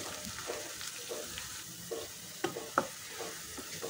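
Onions frying with cardamom and cloves for a mutton rogan josh, a soft steady sizzle broken by a few stirring scrapes and small pops, quiet and close.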